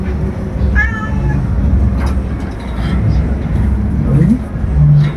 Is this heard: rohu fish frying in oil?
no